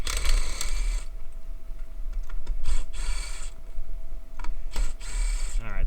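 An angled wrench works loose ignition coils and spark plugs, giving bursts of close mechanical ratcheting and clicking separated by short pauses.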